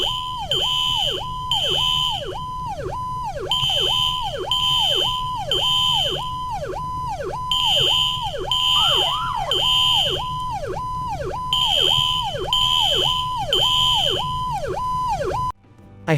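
A fire alarm siren played from a boom box in a video game wails in a steady repeating rising-and-falling cycle, loud and continuous for about fifteen seconds before cutting off abruptly.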